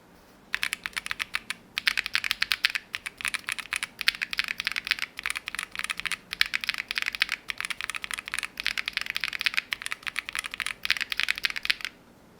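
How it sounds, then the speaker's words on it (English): Rapid, steady typing on an Epomaker TH40 40% mechanical keyboard with PBT cherry-profile keycaps and Wisteria or Flamingo switches. The clicks come close and dense, with no talk, for about twelve seconds. "this is an add-on sound test comparing the Epomaker Wisteria against the Flamingo switch"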